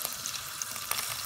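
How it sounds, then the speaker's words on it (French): Onions fry in hot oil in a saucepan still coated from cooked meat. The result is a continuous close, bright sizzle with small crackles and pops and no talk. "On va faire revenir 2 cuillères à soupe d'huile avec les oignons."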